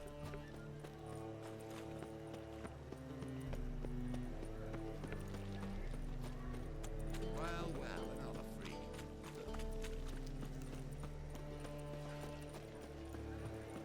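Horse hooves clip-clopping along the streets of Novigrad in The Witcher 3, a rhythmic stream of hoof beats over a layer of background music, growing fuller partway through.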